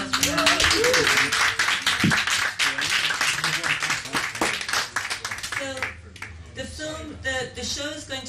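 Crowd applause from an audience at an Exploding Cinema film screening in Margate, dense clapping that fills the whole stretch, with voices and cheers mixed in and a slight dip partway through.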